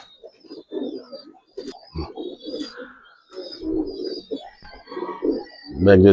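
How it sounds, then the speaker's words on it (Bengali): Jira-necked pigeons coo repeatedly in soft, throaty bursts close by, with a few higher chirps mixed in. "জিরা গলা কবুতর দেখেন ভাই"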